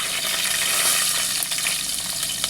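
Whole spices such as bay leaf, cloves, black pepper and cinnamon sizzle as they are sautéed in a pan for egg biryani, a loud, steady, close hiss of frying oil throughout.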